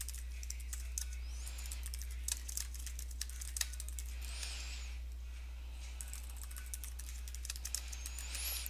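Steady typing on a computer keyboard, rapid close key clicks with brief pauses while composing a message, over a constant low electrical hum.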